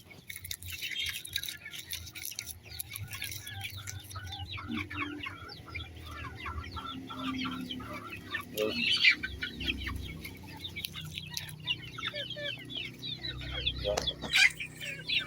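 Chickens cluck and chirp steadily nearby, with the thin peeping of chicks mixed in and a few louder squawks, faint voices now and then in the background.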